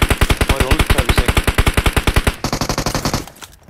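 Automatic gunfire in the video game PUBG, a long loud rapid burst of evenly spaced shots that shifts tone briefly near the end before cutting off, with no talk.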